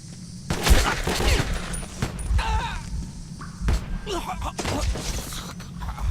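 A fairly quiet gun in the post-apocalyptic shooter game Metro 2033 fires a series of muted thumping shots at irregular intervals, mixed with scuffs and game noise under a low background hum.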